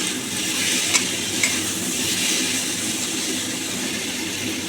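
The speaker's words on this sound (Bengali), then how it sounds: "এবার মশলাটা ভালো করে কষে নিতে হবে" Okra masala spices sauté in a pan, a steady close sizzle and frying hiss running throughout with occasional scraping stirs and a couple of faint clinks.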